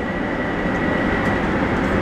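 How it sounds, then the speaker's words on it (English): A train rumbles and rattles steadily over old, rickety railroad track with pitch points on the Long Island Rail Road Main Line, a dense continuous clatter heard from on board. "I feel like you're on some old rickety railroad."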